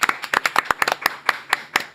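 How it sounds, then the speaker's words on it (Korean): A small studio audience claps to welcome a guest on a Korean talk show, with crisp, closely spaced individual hand claps in a quick irregular patter rather than a full roar. "박주민 의원님 박수로 맞이합니다"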